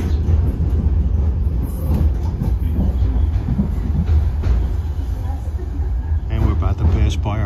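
An Irish Rail Class 8100 EMU pulling out of Dublin Connolly, heard on board as a steady, loud rumble of the carriage with faint rail clatter throughout.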